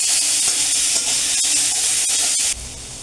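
Raw onion and green chili hiss and sizzle in hot oil in a home kitchen, a steady loud spitting fry that stays continuous and dips slightly near the end.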